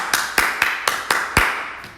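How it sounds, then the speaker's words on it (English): Six sharp, evenly spaced claps ring out in a primary school assembly for pupils' birthdays, close and crisp with a steady rhythm, a fainter seventh at the end. "And give them a clap"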